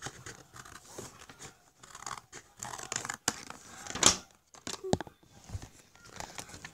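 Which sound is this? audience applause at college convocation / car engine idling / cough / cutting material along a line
cutting material along a line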